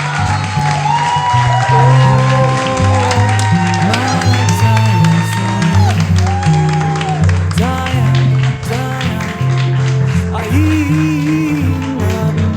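Audience applause and cheering for speaker Juancho Ortega at the Palabras Vitales 2023 talk event: a sustained, loud roar of many clapping hands with scattered whoops, mixed with music throughout.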